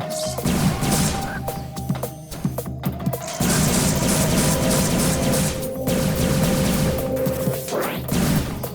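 Rapid plasma beam blasts hitting bugs in Metroid Prime, a dense run of crashing, smacking impacts repeating loudly over a steady game hum, with no voices.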